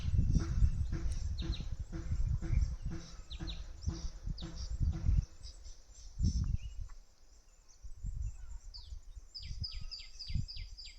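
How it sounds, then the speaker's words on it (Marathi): Birds call outdoors in the Konkan countryside under a cloudy pre-monsoon sky. Short chirps and whistles come at a moderate distance, with a steady low rumble of outdoor background noise underneath. "पक्ष्यांचा आवाज"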